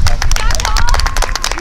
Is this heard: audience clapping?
yes